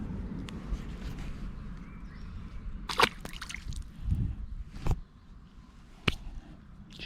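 A caught black bass let back into canal water: quiet drips and wet squishing, then a few short, sharp splashes near the middle and end, with no voices.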